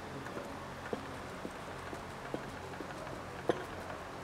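A loose steering rack shaft on a car knocks out a series of light, regular knocks about every half second. The knocks are faint against a low, steady background hum.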